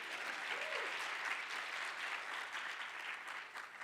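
Steady, even applause fills a college convocation and awards ceremony hall as the audience claps together for an honoree, moderately loud and continuous throughout.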